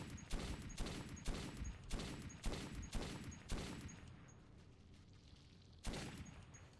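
Gunfire in Metro 2033 sounds as a player fires military-grade ammo used as currency, six evenly spaced heavy shots about half a second apart with ringing tails, then a pause and one more shot.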